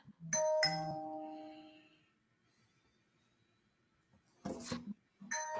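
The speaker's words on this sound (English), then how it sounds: "I'm not sure whose doorbell that is" A two-tone doorbell chimes clearly, followed by a quiet pause and then more chiming notes near the end.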